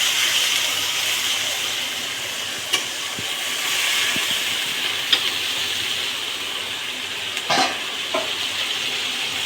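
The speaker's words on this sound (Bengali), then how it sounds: "এই যে এবারে একটু হালকা জল দিয়ে দেবো।" Water poured into a hot pan for a bottle gourd and snakehead fish curry sends up a loud steady hiss and sizzle, with a few brief clinks and spatters over the constant steam noise.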